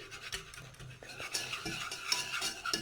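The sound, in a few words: stirring butter and flour béchamel in a saucepan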